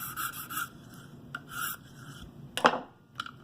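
A Buck 110 knife blade is drawn across a stone on a KME guided sharpener in several separate rasping strokes, close and fairly quiet, with a sharper scrape near the end and no talking.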